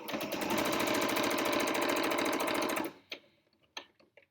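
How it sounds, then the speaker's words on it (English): A sewing machine runs fast and steadily, stitching quilt binding strips together on a diagonal, a loud close mechanical whir that stops abruptly near the end, followed by a few soft handling clicks. "All I'm doing is going to sew on that line."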